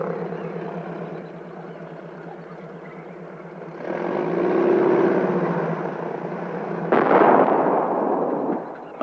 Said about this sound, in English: a cannon-like device called an exploder, which fires automatically